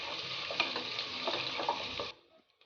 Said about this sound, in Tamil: வெங்காயத்தை நல்லா ஃப்ரை பண்ணிக்கோங்க